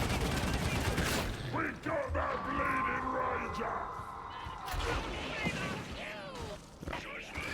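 Rapid close-range gunfire from a heavy Ogryn weapon in the video game Darktide, dense bursts and mechanical clatter filling the scene, with a voice talking over the shooting.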